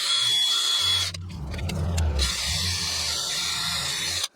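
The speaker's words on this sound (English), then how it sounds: "I'm gonna use a wire wheel on a drill to clean this up." Wire wheel on a cordless drill scrubbing a rear brake caliper bracket on a Toyota Highlander: a steady close whirring hum with harsh scratchy rasp that briefly drops out and resumes, then stops abruptly.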